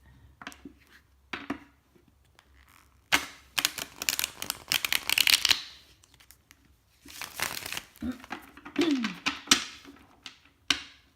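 Tarot cards are shuffled in several bursts of quick riffling and flapping, close by, separated by short pauses and soft handling noises.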